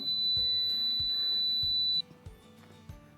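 A construction laser detector gives a steady, high, solid beeping tone for about two seconds before it cuts off, over low thumps and background noise.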